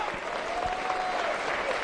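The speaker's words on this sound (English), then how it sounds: "And Barlow gets the applause of the crowd here." Spectators at a Jersey Bulls versus Farnham Town football match applaud a player, a brief, fairly faint spatter of clapping heard from a distance across the ground with a whistle-like tone drifting through.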